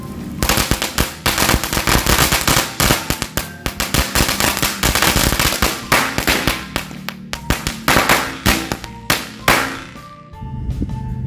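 Small match-lit New Year firecrackers going off in a rapid, irregular string of sharp, loud close bangs and crackles for several seconds, thinning out near the end with a hiss and a few final pops.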